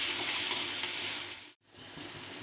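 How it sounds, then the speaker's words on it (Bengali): Spiny gourd fries in oil with salt and turmeric, a steady, dense hiss and crackle of sizzling close by, briefly cutting out for a moment before resuming. "কারকলটাকে একটু লবণ আর হলুদ দিয়ে ভেজে নেব।"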